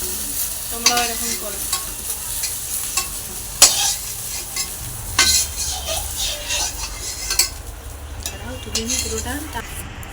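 Okra sizzles as it fries in oil in a pan, with steady frying hiss, repeated stirring scrapes and occasional utensil clinks.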